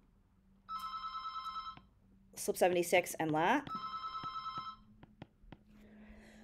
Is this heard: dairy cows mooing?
no